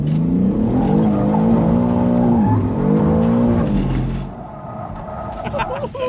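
A 600hp BMW G87 M2 drifting a figure of eight in drift mode at Santa Pod, engine revving hard and rising and falling with tyre squeal, loud and close, easing off near the end.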